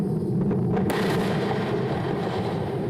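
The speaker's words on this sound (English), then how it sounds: "An explosion during a fueling test destroyed a Falcon 9 and a satellite." A Falcon 9 rocket explodes during a fueling test, a loud continuous rumbling roar with a sharp crack about a second in, sustained throughout without voices.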